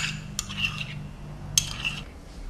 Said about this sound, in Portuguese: Mexe as gemas,